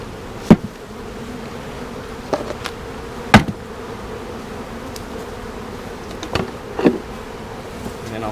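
A colony of honeybees buzzes in a steady, close drone while being moved into a ten-frame hive, with a few sharp knocks and thumps of hive parts breaking through the hum.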